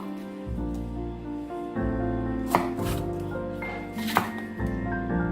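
A knife chops green and red capsicum on a board in a steady run of crisp, close thuds with brief pauses, over a faint background hum.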